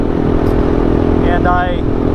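Desmogged motorcycle with a Getty ECU and a slightly uncorked stock exhaust fitted with a new end cap, producing a steady, loud engine drone throughout, with a brief voice passing over it.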